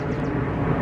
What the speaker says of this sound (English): yes, there's a plane overhead.